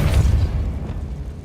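Depulso spell cast in the video game Hogwarts Legacy, heard as a heavy low boom that swells at the start and decays over about a second, followed by a brief sharp burst at the very end.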